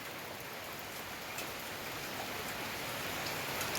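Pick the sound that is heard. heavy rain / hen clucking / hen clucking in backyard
heavy rain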